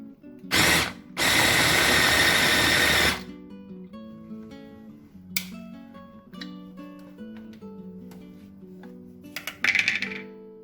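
An electric mixer grinder whirs loudly in two bursts, one short and one about two seconds long, while mincing chicken with green chili and egg for burger patties, then stops, leaving quieter clinks and scraping.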